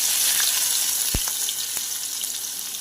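Onion and chilli sizzle steadily in hot oil while chicken kosha cooks, a dense continuous frying hiss with a few sharp clicks and stirring knocks, close by with no talking.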